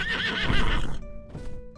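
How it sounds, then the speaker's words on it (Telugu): A winged horse in an animated fairy tale gives one loud, quavering whinny that fades into a short snort, with no voices. "రెక్కల గుర్రం వారిని రాజ్యానికి తీసుకువచ్చింది."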